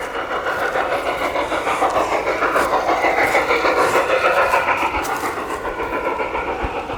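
A model train caboose runs along a City Line layout track, giving a steady, fairly close rolling rumble with a rhythmic clickety-clack that holds evenly throughout, with no talking.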